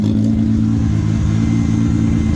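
A 1200hp Nissan 240 with a swapped 2JZ engine and G-Force G101A turbo idles loud and close, a steady lumpy drone with a slight rhythmic lope and no talking.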